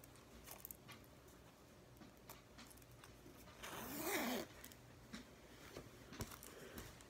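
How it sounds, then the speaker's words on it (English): A jacket is zipped up in a single loud rising rip lasting about a second, standing out from a quiet room with faint rustles and small clicks around it. "when you zip it up"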